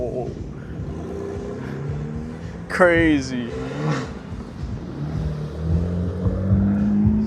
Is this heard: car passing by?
yes